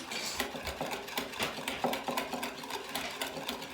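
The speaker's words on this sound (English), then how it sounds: "you're gonna whisk it all together" Eggs and vanilla are whisked together in a bowl, a quick, steady clatter of the whisk scraping and tapping against the bowl that runs continuously and close up.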